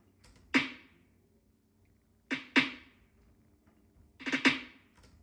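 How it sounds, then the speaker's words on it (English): Snare hits play alone in a sparse pattern, a single strike then flam-like doubled hits, each sharp and bright with a quick fade. "And then here's the second snare."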